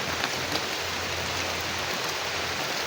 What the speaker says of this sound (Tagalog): Akala ko hindi sila matabla ng ulan.